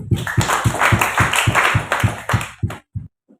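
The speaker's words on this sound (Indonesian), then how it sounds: "Tepuk tangan dulu." Church congregation at a worship service clapping together in a steady, evenly spaced rhythm of about a dozen firm beats, then breaking off into a few scattered final claps and silence.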